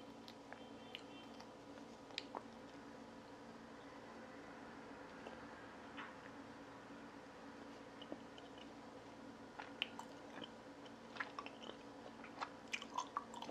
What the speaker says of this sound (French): si vous arrivez à manger le gâteau de riz sans faire de bruit de bouche